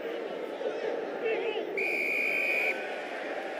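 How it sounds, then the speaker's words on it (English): A rugby referee blows one sustained, piercing whistle for about a second over the low roar of a stadium crowd during a professional match. "Whistle blows, penalty Ospreys."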